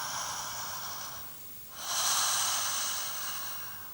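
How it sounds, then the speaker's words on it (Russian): Soft, deep relaxed breathing close up, one long airy exhale, a brief pause, then a slow full inhale, with no talking. "очень мягкое, расслабленное дыхание."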